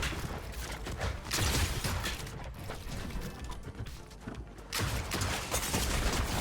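Rapid clattering shots from an OXR rifle in Fortnite, dense and continuous with a brief lull midway before the firing resumes.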